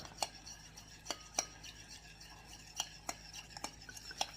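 A spoon mixes cornstarch and water in a small dish, with bright repeated clinks against the sides at an irregular rhythm, quiet and close.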